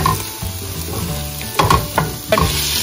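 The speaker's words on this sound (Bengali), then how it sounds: "আর এটা হচ্ছে আলু আর পেঁয়াজটা ভাজলাম" Potatoes and onions with ginger paste, coriander-cumin powder and chilli powder fry in a pan with a steady close sizzle, broken by a few louder stirring scrapes toward the end.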